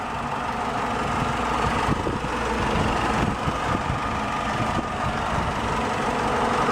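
A 2008 Chrysler PT Cruiser's 2.4-liter inline four-cylinder engine idles steadily, a constant low hum and whir that holds an even level throughout with no talk.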